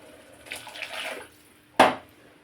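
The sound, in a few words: water being poured into pot for rice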